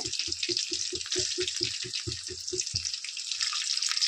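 Two cloves of grated garlic frying in a pan give off a steady, bright sizzle throughout, with a rhythmic series of low thumps over the first three seconds and no talking.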